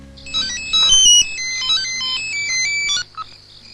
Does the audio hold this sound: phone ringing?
yes